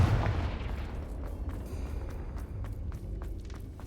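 A Confringo blasting spell fires in Hogwarts Legacy: a heavy booming burst followed by a run of sharp crackling impacts and thuds, loud and close, with no talking.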